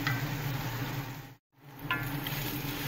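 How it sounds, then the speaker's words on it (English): A stir fry sizzles in a cast iron wok with a steady, close, crackling hiss that cuts out briefly in the middle before resuming. "And back to the stir fry."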